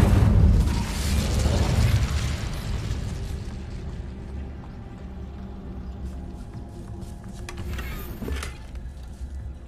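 Incendio fire spell cast in Hogwarts Legacy, a loud bursting whoosh of flame at the start that roars and slowly fades into a crackling tail, with a brief mechanical clatter later on.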